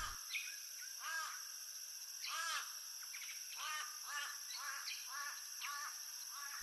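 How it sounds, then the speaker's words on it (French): Repeated harsh calls from birds on a wooded river island that hosts herons, sounding in an irregular series of loud, near, rasping cries against a hissing outdoor background. "Elle le partage avec une variété d'oiseaux qui en font un lieu de séjour. Des hérons,"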